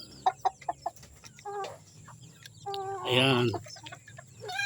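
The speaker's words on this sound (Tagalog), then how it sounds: "Pawalan ko yung aking mga alagang native chicken." Native chickens let out of their pen on a small Filipino farm, clucking in short bursts at close range with a louder flurry of calls midway, while a person talks around them.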